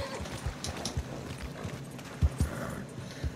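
A horse moving with scattered, uneven hoof thuds and a faint whinny, fairly quiet and close against a soft background with no speech.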